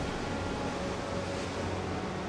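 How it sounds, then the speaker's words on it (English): Ocean surf in the video game Tales of Arise, a steady, unbroken wash of broadband noise with a soft low rumble, even in level and continuous throughout. "Nice touch to have the ocean sounds as well."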